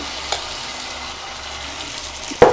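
Utappam (dibba roti) batter hits a hot oiled pan with a steady, close frying sizzle. A brief sharp clatter of utensil on pan comes near the end, and no one speaks.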